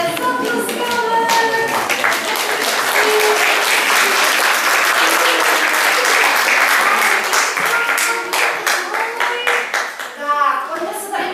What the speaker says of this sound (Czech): No výborně, zatleskáme.